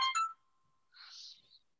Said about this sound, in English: Is that phone call?